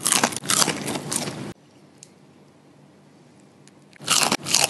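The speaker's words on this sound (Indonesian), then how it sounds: "Cemilan simple, cuma 3 bahan nih bisa buat bakwan, mie sosis, renyah, gurih, enak banget deh pokoknya." A fried snack made from instant noodles and sausage is bitten with loud, close crunches, one burst, then a pause of near silence, then another crisp bite.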